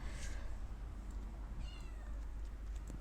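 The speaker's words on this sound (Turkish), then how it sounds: "Kedi geldi." A cat meows a few times in a room, the calls faint and brief over a steady low hum of background noise, with no one talking.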